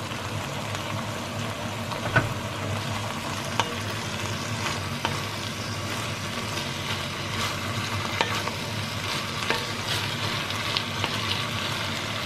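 Bitter gourd (ampalaya) being sautéed in a pan, a steady oily sizzle with scattered scraping and stirring clicks of a utensil throughout, close and continuous without talk.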